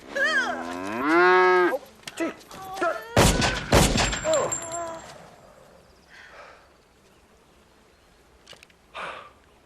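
A cow lets out a loud, long moo at the start, followed by a burst of heavy thuds and gunshot-like bangs, then quieter scattered sounds and a brief cry near the end.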